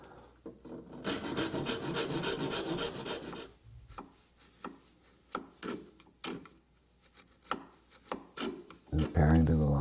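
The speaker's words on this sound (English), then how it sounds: "And again, sawing just shy of the line." A handsaw rasps through oak in a quick, steady burst of strokes, then slower separate scrapes and knocks follow, ending in a louder clatter.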